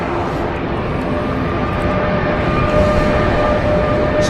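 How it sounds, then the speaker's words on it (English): A TUI Boeing 787 Dreamliner from Birmingham touches down at Manchester Airport, its broad, steady engine roar filling the air continuously at a moderate distance, with no voices over it. "Just about to touch down is the Tom 535 Papa from Birmingham, which is a Boeing 878 Dreamliner"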